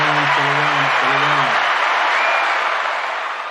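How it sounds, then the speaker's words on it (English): An audience applauds with broad, dense clapping that sustains and fades slightly at the end, while someone speaks briefly over the start. "Let me give a round of applause here"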